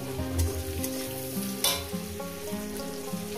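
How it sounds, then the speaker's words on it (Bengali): Onion fries with salt in a pan, giving a soft continuous sizzle with a few sharper stirring scrapes and clatters, heard close over a faint tonal background. "দিয়ে পেঁয়াজটাকে ভেজে নেব"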